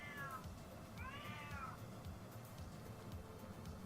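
House cat meowing twice in quick succession, a short cry followed by a longer drawn-out one, fairly close over steady low room noise, then fading into background hum.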